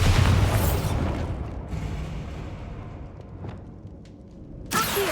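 A deep booming blast from the Bombarda spell in Hogwarts Legacy erupts loud and close, then decays into a long rumbling tail before a second sharp burst near the end.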